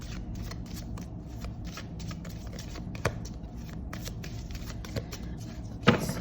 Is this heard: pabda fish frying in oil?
no